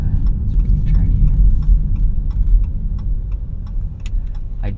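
A 2017 Dodge Charger V6 drives and turns on a bumpy road, heard from inside the car: a loud, constant low engine and road rumble with vibration and scattered small rattles and ticks.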